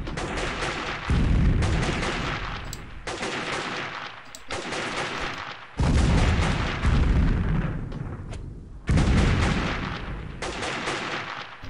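Grenade blasts and gunfire in Delta Force: Land Warrior erupt in loud bursts, heavy booming explosions alternating with rapid rattling shots over about twelve seconds, with no talking.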